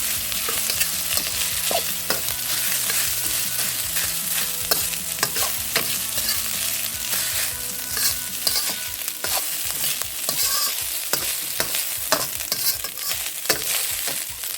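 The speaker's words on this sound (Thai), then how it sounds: "จากนั้นก็จะเป็นกระเทียมสับค่ะ พอกระเทียมเหลืองหอมดีแล้ว แล้วก็ข้าวลงไปผัดค่ะ ใช้ไฟแรงเลยนะคะ" Rice and chopped garlic are stir-fried in a pan over high heat for Japanese-style garlic fried rice, with a constant close sizzle under rapid, continuous scraping and tossing.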